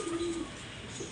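Pigeons eating pieces of roti give a brief low cooing call, moderately close and fairly quiet over a soft background hiss, with no talking.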